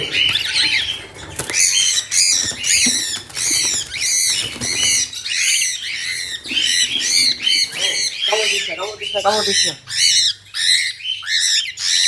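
Pet birds squawk and chirp in a dense, continuous chorus at close range, with rapid repeated calls and occasional fluttering, while a voice talks quietly underneath.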